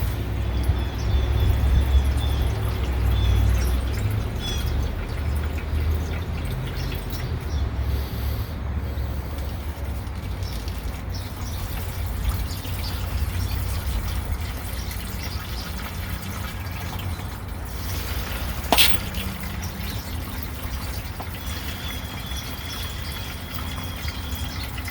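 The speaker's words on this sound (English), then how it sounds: "I have to control the flow of it because it's going out faster than my little pan can take" Liquid drains out of an Ariens riding mower into a small pan, a steady continuous trickling and splashing flow at close range, with a brief sharp clink partway through and no talking.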